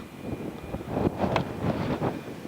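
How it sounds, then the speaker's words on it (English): Gusting wind on an exposed rocky ridge top buffets the microphone in rough, rumbling waves, rising and falling without a break. "It's pretty windy up here today."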